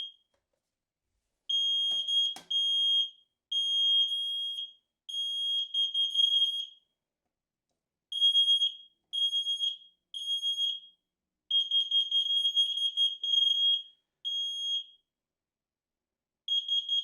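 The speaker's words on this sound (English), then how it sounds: "Awesome little smoke detectors." An X-Sense wireless interconnected smoke and carbon monoxide alarm beeps in short, shrill bursts and clusters of pulses separated by silent gaps, clear and fairly close.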